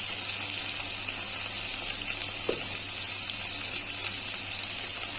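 Masala with chili and turmeric powder fries in oil for an egg biryani, a steady, close, bright sizzle that holds evenly throughout with no talk.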